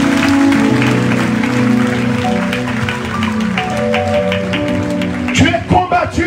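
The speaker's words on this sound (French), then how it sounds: "Donnez-moi des acclamations," Church congregation at a French-language sermon applauds and cheers over sustained organ or keyboard chords, a loud crowd wash that ends in a few sharp claps near the close.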